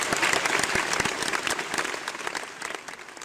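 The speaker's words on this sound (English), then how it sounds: "let's give these boys a round of applause before the competition begins." A classroom audience applauds the boys before a quiz competition, steady dense clapping for about three seconds with no talk over it.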